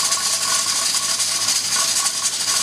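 A Presto 23-quart pressure canner's weighted regulator jiggles and hisses steadily on the stove, a continuous loud steamy rattle with no pauses.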